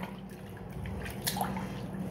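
Soapy laundry wash water poured out of a container after hand-washing stained clothes, a steady close trickling and splashing that runs the whole short moment with no talk.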